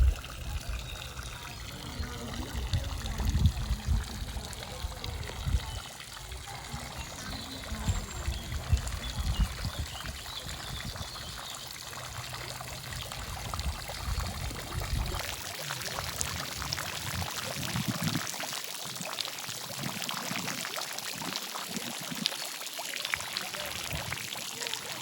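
Water trickles and pours from a sculpture of dripping leaves on tall stems into a garden pond in an English garden, a steady splashing flow with outdoor ambience and faint voices.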